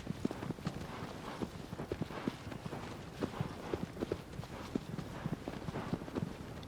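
Horse hooves galloping in the video game Shadow of the Colossus: a steady, quick clip-clop rhythm of hoofbeats, fairly quiet and continuous with no talking over it.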